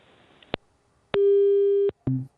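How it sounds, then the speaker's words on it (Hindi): A telephone busy tone after a call to a live share-market advice programme drops: a couple of clicks, then a long steady tone and the start of another beep, clear and alone. "शायद फोन डिस्कनेक्ट हो गया"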